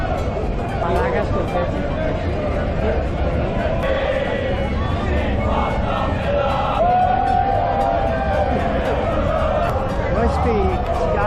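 Scotland fans celebrate in a crowd, a continuous din of cheering, shouting and overlapping voices echoing around a busy space, with occasional higher yells rising above the babble.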